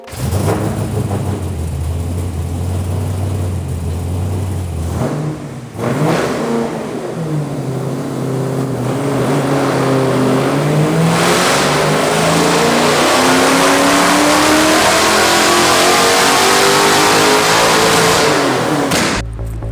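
Rebuilt, previously blown Ford Mustang engine running during tuning, a loud close idle that cuts briefly, restarts, then revs up with rising and falling pitch and a sustained roar.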